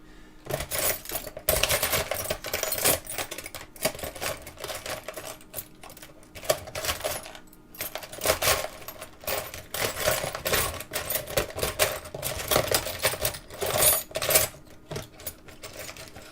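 Small metal Allen keys rattle and clink continuously as someone digs through them while repairing a JL Audio 1000/1 amplifier. The dense, fairly loud jingling runs with short breaks and no talk.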